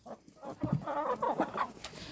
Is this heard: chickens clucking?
yes